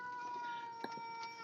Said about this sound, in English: I apologize if you hear cats meowing.